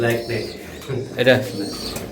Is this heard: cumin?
no